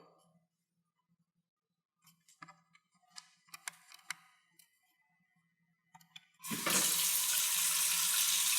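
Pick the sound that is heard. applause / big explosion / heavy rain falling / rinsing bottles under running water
rinsing bottles under running water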